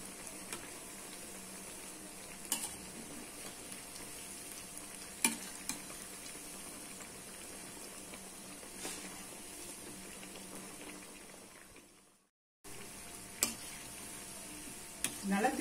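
Masala vadas made with beetroot and chana dal fry over a medium flame, a soft continuous sizzle close by with a few sharp clicks and a short dropout near the end.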